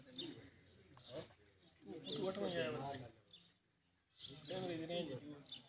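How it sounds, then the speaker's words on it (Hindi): A pigeon coos on a rooftop in Kandian among kept pigeons, in a few soft, throaty bursts with pauses between, while someone talks nearby. "ये सातवां कबूतर है जी"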